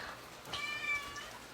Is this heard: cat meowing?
yes